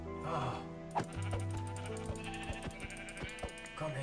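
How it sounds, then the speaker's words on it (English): Sheep bleat repeatedly in the Minecraft video game, several wavering calls close by over a soft, steady game background with small clicks. "Daddy, there's sheep. There's loads down here."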